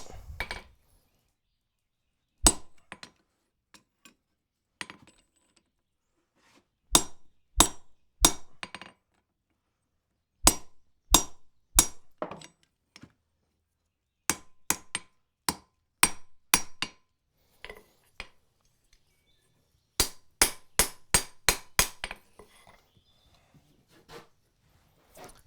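A forged colonial nail header's handle is cut down by an inch, heard as a series of sharp, ringing metallic strikes in irregular bursts separated by silence, close and clear.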